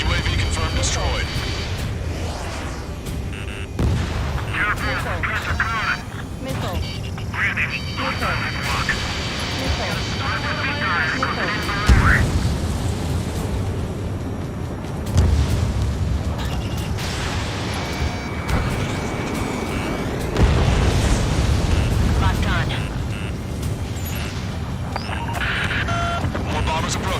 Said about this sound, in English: Target acquired. UAV confirmed destroyed.